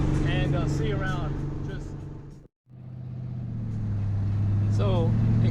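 A 1955 Chevy Nomad with an LS3 engine and open exhausts drives on a back road, its engine droning steadily and rising in pitch as it accelerates, with someone talking over it throughout.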